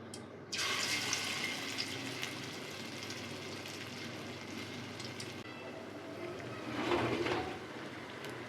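Long bean pakoras frying in hot oil give a steady, moderately loud bubbling hiss that starts abruptly and swells briefly near the end as more fritters go in.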